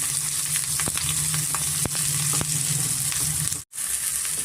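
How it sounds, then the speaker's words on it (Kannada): Chopped onions frying in oil in a pan for green egg bhurji, giving a loud, continuous close sizzle with a few sharp spoon clicks and a very brief dropout near the end. "ಸ್ವಲ್ಪ ಈರುಳ್ಳಿ ನಾವು ಚೆನ್ನಾಗಿ ಫ್ರೈ ಮಾಡ್ಕೊಬೇಕಾಗುತ್ತೆ"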